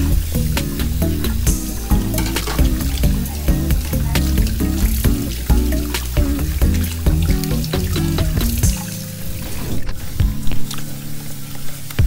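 Boiled pork belly rinsed under a running tap, a steady loud rush of water with irregular splashing and squishing as the meat is handled, easing briefly near the end before the flow resumes.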